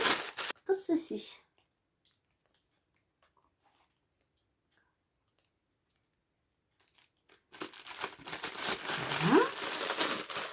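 Plastic packaging crinkles and rustles close up as a Temu parcel is opened, a brief burst at the start, then near silence, then a longer busy run of crinkling and tearing at the end, with a voice speaking at times.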